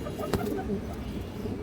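Pigeons sold by a Bangladeshi farm, including green-line pigeons, give a few soft low coos close by, with a brief click among them and a faint background murmur.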